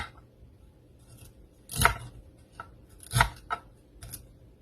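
Celery stalks being cut up with a knife, a few separate crisp crunchy cuts spaced out over a quiet background, close and distinct.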